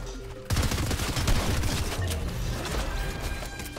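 Rapid bursts of automatic rifle fire, including AKs, in a Fortnite Chapter 2 battle, dense and loud almost throughout after a brief quiet start, with overlapping shots and impacts.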